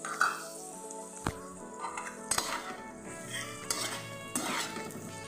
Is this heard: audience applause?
no